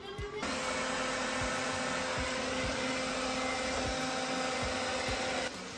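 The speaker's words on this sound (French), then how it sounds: "J'ai envoyé l'aspirateur." A robot vacuum cleaner runs steadily in a new house, its motor giving a constant whirring drone with a high whine, loud and unbroken for several seconds before cutting off near the end.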